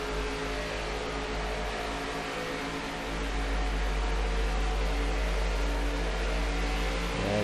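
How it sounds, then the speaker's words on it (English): Race car engines in the NASCAR 25 video game on PC, a dense continuous drone of several engines at sustained speed, loud and steady, with no talking. "All the cars sound really, really good."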